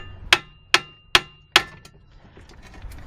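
Four sharp metallic taps ring out as a spindle is struck against a 4T65E automatic transmission part, evenly spaced about every 0.4 seconds and close by, followed by fainter clatter from the parts in the workshop.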